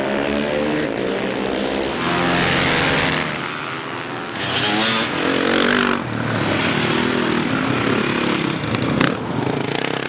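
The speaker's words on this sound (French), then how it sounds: "Kevin profite des tours d'essai pour se mettre à l'aise sur la moto qu'il conduit pour la première fois" Supermoto motorcycle on practice laps around a mixed dirt and asphalt track, its engine loud and droning with rising and falling pitch as it accelerates and shifts past, continuous and close with no voices.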